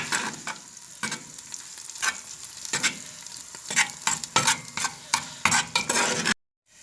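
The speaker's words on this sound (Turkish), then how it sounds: "Şimdi salçamın çiğliği geçene kadar iyice salçamı kavuruyorum ben." Tomato and pepper paste fries with meat and onion in a pot, sizzling loudly as a spoon stirs and scrapes in quick, irregular strokes, ending abruptly in near silence.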